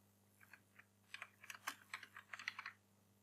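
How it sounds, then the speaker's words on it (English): Quick run of keystrokes on a Windows computer keyboard, close and crisp, irregular taps clustering into a short burst against a faint background hum. "type in the words System Restore."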